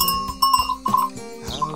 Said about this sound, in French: Biscotte, la petite chèvre, un mélange